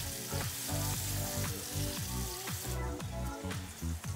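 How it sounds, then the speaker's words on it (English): A rib eye steak sears in a hot oiled skillet, a loud, dense, continuous sizzle and crackle close up with rapid popping bursts throughout and no voices. "I'm just gonna put a little bit of oil in the skillet first before I add the steak to it"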